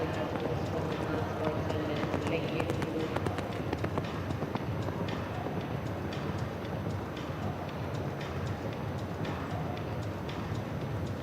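A Holstein stallion clip-clopping on the ground of an outdoor show jumping arena during a 1.45 m CSI3* competition, the hoofbeats running steadily and moderately loud within continuous crowd and arena noise.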